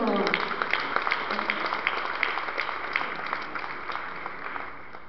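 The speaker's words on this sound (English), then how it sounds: "let's give them another round of applause" A church congregation gives a round of applause: dense, continuous clapping that starts strong and gradually thins and fades toward the end.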